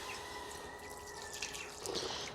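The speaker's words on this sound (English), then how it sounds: "Slightly warm water from the kettle" Slightly warm water is poured from a kettle into bread dough in a home kitchen, giving a faint, continuous trickle with small splashes toward the end.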